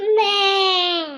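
A young child lets out a single drawn-out, wavering bleat in imitation of a goat, loud and close, lasting about a second.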